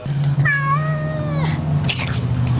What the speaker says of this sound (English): this is a cat who has a snake hanging from her nose